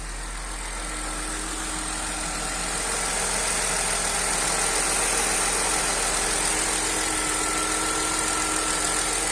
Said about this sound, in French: On a un ralenti bien stable.